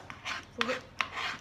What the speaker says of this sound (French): vous donnez d'autres petits coups de couteau très finement dans l'autre sens.